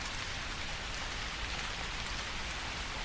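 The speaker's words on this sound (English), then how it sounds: "The rain was relentless now, pouring down in sheets" Heavy rain pours down in sheets, a dense, steady hiss of countless drops striking surfaces, constant and enveloping with no voices or pauses.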